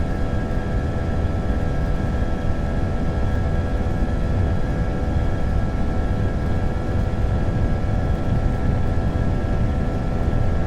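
Airliner jet engines at takeoff thrust in the Prepar3D flight simulator, Geneva to London Heathrow, give a loud, steady roar with a sustained whine that holds without a break throughout.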